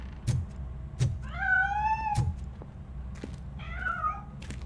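A cat in RoboCop Rogue City gives two drawn-out meows, the second shorter, near and clear, between a few sharp knocks and clatters, with no talk.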